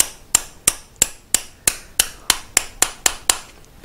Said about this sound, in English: knock this pin through a bit